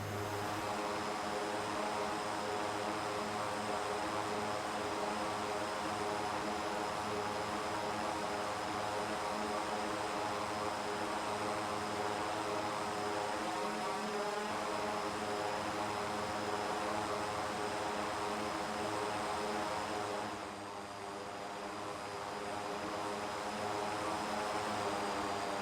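A simulated aircraft engine in flight in X-Plane 11 over an Indonesian island, with a steady, continuous drone and hum throughout and a brief dip in level near the end, with no talking.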